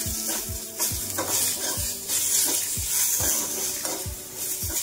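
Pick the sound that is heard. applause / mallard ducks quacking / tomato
tomato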